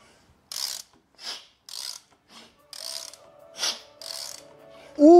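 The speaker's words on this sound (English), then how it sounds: "I got my wrench with a 19mm socket. Let's put it on there and see if this thing spins over." Ratchet wrench with a 19mm socket turning over a freshly rebuilt Mazda 13B rotary engine, giving separate bursts of close clicking as each stroke is pulled, followed by a voice at the end.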